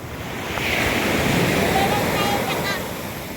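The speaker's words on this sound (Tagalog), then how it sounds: "ang lakas ng alon" Strong waves surging at a rough beach, a steady broadband roar of surf with wind noise, swelling louder in the middle and easing toward the end, with faint voices in the background.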